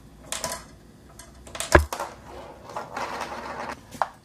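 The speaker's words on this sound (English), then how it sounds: "So now all the rice is gone from the snare drum," A homemade snare drum built from a coaster, emptied of rice, is struck and rolled with a marble, giving sparse dry taps and light rattles with one sharp louder hit.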